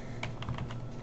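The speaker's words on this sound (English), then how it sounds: "Sorry for my typing." Typing on a computer keyboard while setting up a project on a Mac, a quick run of light, close key clicks in an irregular rhythm with no talk.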